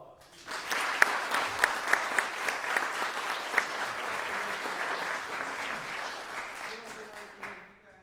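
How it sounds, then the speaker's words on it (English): A room at a city council meeting breaks into a sustained round of applause, steady clapping that starts suddenly, holds for several seconds with a few sharp individual claps, then fades out. "One more round of applause."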